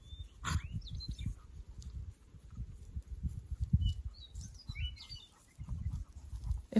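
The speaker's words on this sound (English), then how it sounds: "Listen to the birds." Birds chirp and call in short bursts outdoors on a late-March day, light and fairly distant over a steady low background rumble.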